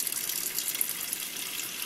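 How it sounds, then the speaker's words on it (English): Tap water runs steadily into a pressure cooker sitting in a sink, a close, continuous hissing splash with no talk over it. "the pressure cooker is in the sink and you only need a little bit of water"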